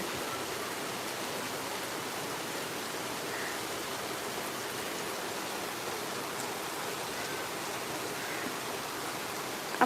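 Rain falling steadily, a dense, even hiss of drops that holds at the same moderate level throughout with no talk.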